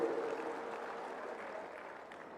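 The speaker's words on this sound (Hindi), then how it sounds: "जोरदार ताड़ियां बजा करके सीआर पाटिल जी का स्वागत करिए" An audience at a public government event for a water conservation campaign claps steadily in a dense, even wash of applause that sounds somewhat distant and holds for the whole moment.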